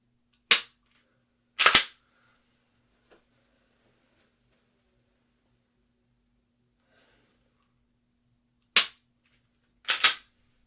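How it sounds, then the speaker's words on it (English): Four sharp pistol shots crack out in two spaced pairs on a shooting range, each loud and brief with a quick decay, separated by long stretches of near silence. "as you pull the trigger and as the shot breaks"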